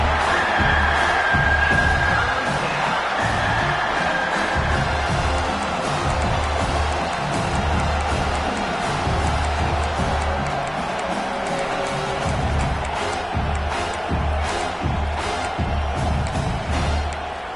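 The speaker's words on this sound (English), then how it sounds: "Decibels rising as the crowd gets behind this defense on third down." A stadium crowd at a college football game between Florida and South Carolina roars steadily on a third-down defensive stand. The cheering stays loud and continuous throughout, with scattered claps and whoops.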